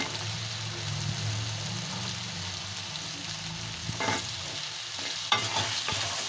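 Cut potatoes fry with fried spices in a pan for an aloo capsicum dish, a soft steady sizzle broken by a few scraping strokes of the stirring spoon.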